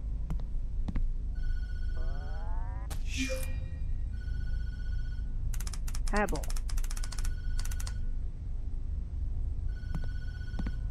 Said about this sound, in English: Terrence, don't answer the phone.